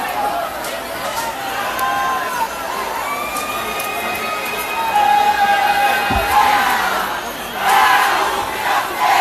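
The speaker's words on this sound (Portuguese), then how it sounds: "o pessoal tá ali fazendo outro grito de guerra" A large crowd at the Lume da Fogueira 2017 final in Mossoró chants a war cry together, a steady roaring mass of voices with rising shouts, loud and sustained throughout.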